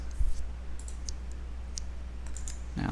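Sparse, light mouse clicks on a computer while working in Varian Eclipse radiotherapy planning software, a few quiet isolated taps over low room hum.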